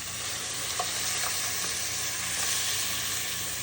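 Sauce poured over browned ground turkey in a hot pan sizzles and fries loudly and steadily, a dense hiss with a few faint stirring clinks and no voices.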